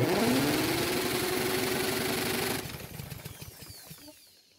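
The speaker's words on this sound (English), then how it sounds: "But what happens when you use a drill to spin the engine this time?" A Craftsman lawn mower engine is spun by a power drill, giving a loud, steady whirring drone with a rising whine and rapid chuffing pulses that then drops off and fades as the drill stops.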